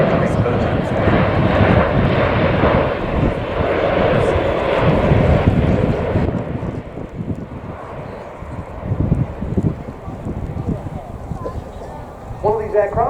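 An Airbus A400M military transport aircraft performing at an air show, its engines giving a loud broad drone that eases from a strong roar into a lower rumble, heard under continuous commentary over a public address system.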